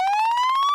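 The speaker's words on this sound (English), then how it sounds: "you can hear the sound of a fire truck siren swarming the apartment building" A fire truck siren wails loud and close, a steady tone rising slowly in pitch and pulsing rapidly, heard alone for under a second.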